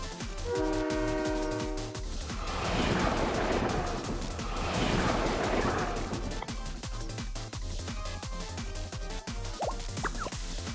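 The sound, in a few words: bullet train running, from the video game Blue Archive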